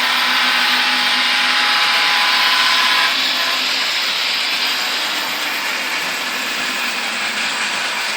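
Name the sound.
model Amtrak train starting off on automated layout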